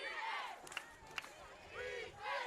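A high school football crowd from Edison chants "defense" in a game against Old Bridge, rising and falling in rhythmic swells heard from a distance, fairly faint.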